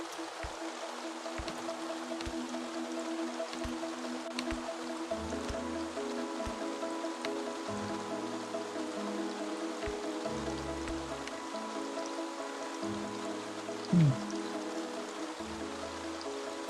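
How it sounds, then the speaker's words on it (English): A steady rain ambience from the game Staxel hisses softly and evenly throughout, with low, slow musical tones drifting underneath and a brief faint knock near the end. "that rain sound has me"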